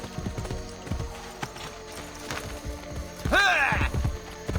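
A horse in the video game Assassin's Creed Brotherhood trots with a steady clip-clop of hooves. A brief neigh breaks in partway through, over a low background hum.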